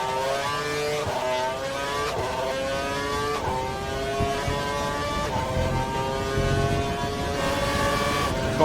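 A Formula One race car in the 2012 Great Britain round of an F1 video game screams past, its high engine whine sweeping through repeated gear shifts, loud and close, with no talk.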